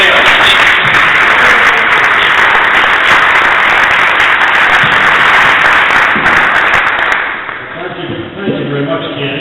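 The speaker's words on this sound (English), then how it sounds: "So please give a round of applause for our Democratic Whip, Steny Hoyer from Maryland." Sustained audience applause at a congressional field hearing in Detroit on the Make It in America plan, a loud, dense wash of clapping that holds steady for most of the stretch before thinning out near the end.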